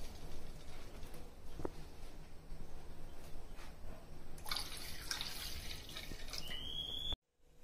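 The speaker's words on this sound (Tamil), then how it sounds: "இது வந்து காய்ச்சாத பால், அரை லிட்டர் பால் சேர்த்துக்கலாம்" Half a litre of unboiled milk poured into a pan of melted butter for cream of mushroom soup: a soft, faint liquid trickle with scattered drips that runs steadily, brightens briefly near the end, then cuts off abruptly.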